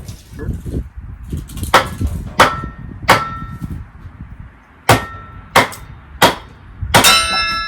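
A log is struck down onto a kindling splitter, giving about seven sharp ringing metallic clangs at uneven intervals, loud and close, with quieter knocks and rustling between the blows.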